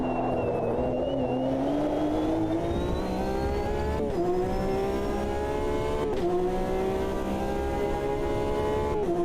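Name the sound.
Porsche race car engine in video game Automobilista 2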